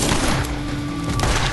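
Sustained automatic turret gunfire in the video game Borderlands, dense and continuous with low thumping bursts throughout, loud and steady across the whole stretch.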